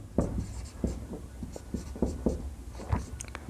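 Chalk or a marker writes on a board during a complex-numbers math lesson, making a close run of short scratchy strokes and taps in an irregular rhythm, with no speech over it.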